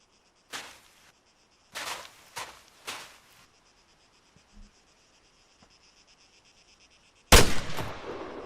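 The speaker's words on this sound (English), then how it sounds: "When you're ready, put some rounds down range." Rifle shots ring out on a firing range in the video game ArmA III. A few sharp reports come with pauses between them, and a final shot is the loudest, over a faint background of cricket-like chirping.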